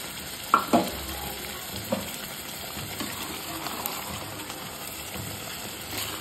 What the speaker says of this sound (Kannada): ಈಗ ಇದಕ್ಕೆ ತೆಂಗಿನಕಾಯಿ ತುರಿದಿಟ್ಟಿದ್ವಲ್ಲ ಅದನ್ನು ಹಾಕ್ಬಿಟ್ಟು ಮಿಕ್ಸ್ ಮಾಡಬೇಕು.